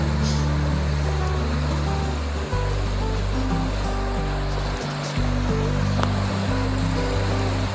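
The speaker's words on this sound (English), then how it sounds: "I like hearing the sound of the small rapids here" Small river rapids beside a lakeshore hiking trail in Lake Superior Provincial Park, heard as a close, continuous rushing and splashing with a steady low rumble and no voices.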